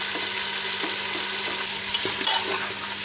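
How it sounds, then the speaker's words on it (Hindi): Chicken sizzles steadily as it roasts in a pan, with a dense frying hiss and a few faint stirring scrapes over about three seconds. No voices are heard. "इसको कर लेंगे 8 से 7 मिनट भुनाई अच्छी तरह।"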